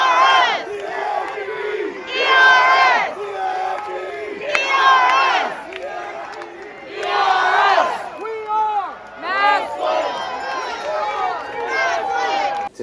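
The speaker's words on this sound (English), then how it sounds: "To me, that is a Massillon crowd." A large crowd of Massillon Tigers high school football fans roars and cheers loudly in repeated swelling bursts, with shouts and whoops rising over a constant din.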